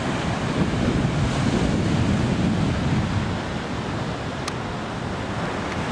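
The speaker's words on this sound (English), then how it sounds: "Nice little 1 to 2 foot chop right on the beach" Ocean surf of a small one-to-two-foot chop breaks steadily on a fishing beach, a continuous loud wash of waves mixed with wind rumble on the microphone, no voices.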